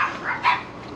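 Dogs barking at a memorial gathering, a few brief yelps and barks rising out of a quiet room, with the loudest bark near the middle of the second.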